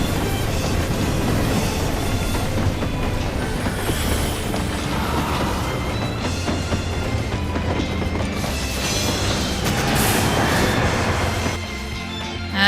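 Train carriage rolling along in Final Fantasy XIV, a steady, loud rumble with low mechanical drone and faint rattling throughout, no talk, briefly dipping near the end.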